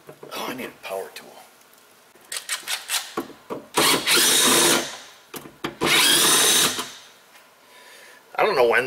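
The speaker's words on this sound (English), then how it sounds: "Oh, I need a power tool." A cordless power drill driving Torx screws on a Jeep Grand Cherokee liftgate handle whirs in short trigger pulls, then two longer loud runs of a few seconds each, with talking between the bursts.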